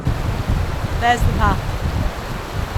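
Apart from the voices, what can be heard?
river water flowing while hiker crosses the river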